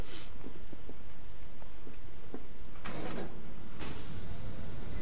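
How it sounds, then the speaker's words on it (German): A door being shut in Batman: Arkham Knight, heard as a sliding scrape and a couple of sharp knocks and clunks over low rumbling game ambience, with no speech. "Nee, ich will die Tür zumachen."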